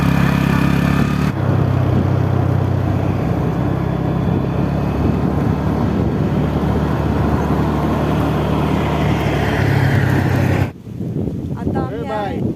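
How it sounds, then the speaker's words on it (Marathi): Steady roar of vehicle traffic and wind on the Mumbai–Goa highway near Nagothane, loud and continuous for most of the clip before cutting away to quieter sound with a voice at the end. "हा आमचा हायवे आहे, मुंबई गोवा हायवे नागोठण्याला जाण्याचा"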